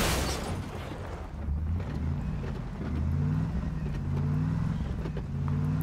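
Engine of a vehicle in PUBG gameplay, a loud steady motor drone with rising and falling revs running continuously throughout, close and alone with no talk.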